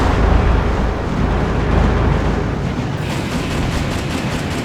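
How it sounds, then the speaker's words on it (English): Explosions rumble in the video game Metal Wolf Chaos, a loud, dense, continuous roar of blasts and debris that thins slightly after a few seconds but keeps going. "Cool presidents don't look at explosions."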